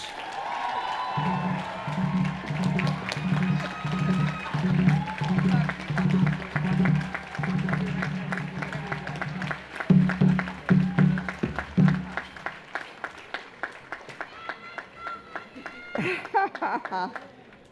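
Commencement audience at Tougaloo College applauding and cheering for a speaker, a sustained wash of clapping with rhythmic pulses and scattered whoops, continuing loudly and tapering near the end.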